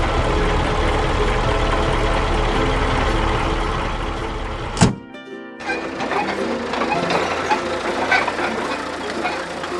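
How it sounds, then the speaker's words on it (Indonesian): Engine of a red tractor hauling baskets of fish and flowers through a busy market, a loud steady running drone that cuts out abruptly midway, then resumes more unevenly amid background bustle. "Traktor merah yang mengangkut keranjang ikan dan bunga berjalan di tengah pasar"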